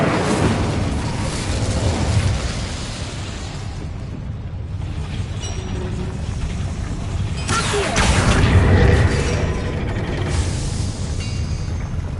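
An Incendio fire spell blast in Hogwarts Legacy, a loud roaring burst with whooshing and rumbling booms that swell, fade and then flare up again, with game voices faint in the background.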